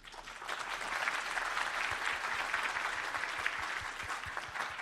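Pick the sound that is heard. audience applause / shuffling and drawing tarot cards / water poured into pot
audience applause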